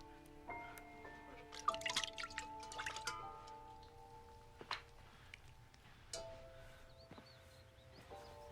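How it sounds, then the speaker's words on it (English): Water drips and splashes in a quiet room, with scattered soft drops and small splashes that are loudest early on and then thin out to occasional single drips. "This is water."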